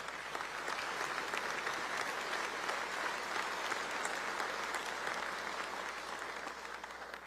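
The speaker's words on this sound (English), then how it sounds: "So let's again give them a round of applause." Sustained applause from an audience in a state legislature chamber during a governor's opening address fills the room, steady and dense throughout before easing slightly toward the end.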